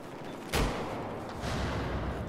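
Battlefield 4 multiplayer combat on PS4, with one sharp, loud blast of gunfire followed by a steady rumble of further shooting that swells again toward the end. No one speaks.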